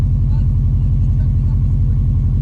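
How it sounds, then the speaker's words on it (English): A car engine idles steadily with a deep, even rumble throughout while it is being tuned on a fuel-rich mixture, close and loud with no clear revving. "let the fuel pump prime, and we start the car"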